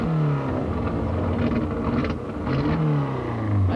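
The engine of a Ford Escort rally car, the 1996 Rally Australia WRC machine, runs with a misfire: a mid-pitched engine that stutters and surges unevenly in short, rough revving bursts, loud and close.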